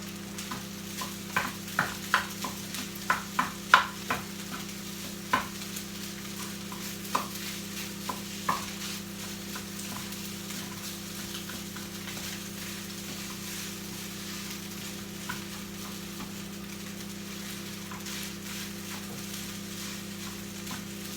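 Shrimp stir-fry for shrimp fried rice cooks in a pan on an electric stove: a quiet, steady sizzle with scattered spatula ticks and scrapes, busier early and sparser later.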